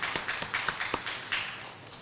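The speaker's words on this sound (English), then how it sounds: "let's give her a round of applause" Scattered hand claps at a county debate rally, a thin, quiet patter of a few separate claps rather than a full ovation, heard from a distance over about two seconds.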